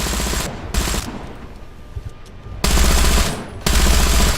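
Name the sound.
German machine gun firing in video game War Thunder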